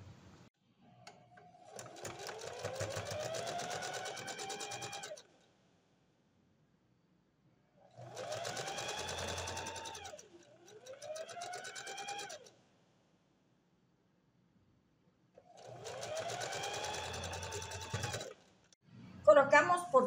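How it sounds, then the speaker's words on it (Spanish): Overlock sewing machine stitching around the neckline of a bodysuit, three runs of fast whirring stitches of a few seconds each, separated by silent pauses, with a short clatter at the end. "luego el overlock por todo el contorno."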